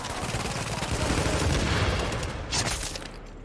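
Turret gunfire in The Division video game, a dense, sustained rattle of rapid shots that swells loud and continuous, then tapers off near the end.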